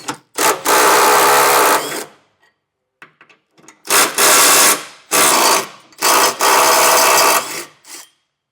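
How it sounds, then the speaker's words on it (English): Power tool, likely an impact gun with a 15mm socket, zipping out two tow hook bolts on a 2023 Ford Transit, three loud close bursts of whirring with short gaps between them. "I got a 15mm socket. I'm just going to remove these 2 bolts."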